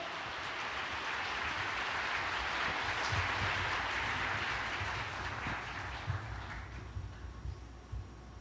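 A congregation at a church worship service applauds to welcome a praise team onstage, a steady wash of many hands clapping that holds for several seconds before tapering into scattered claps.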